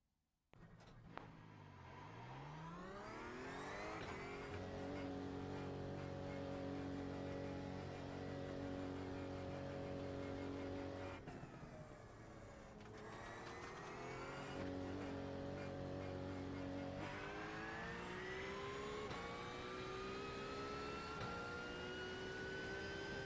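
Porsche race car in a racing video game, engine on cold tires revving steadily with gear-change sweeps, loud and continuous near the listener, with a brief dip before climbing again.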